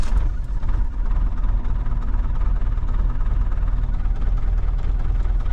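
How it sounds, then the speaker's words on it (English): Land Rover Defender diesel engine idling roughly on the first cold start of the day, a loud, steady low rumble with uneven chugging, continuous and alone, with no talking. "I get a really rough idle. It's only the first start of the day."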